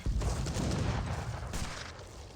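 Falconets and cannons fire in an Age of Empires 3 battle, a quick burst of overlapping booms followed by scattered shots and dying rumble.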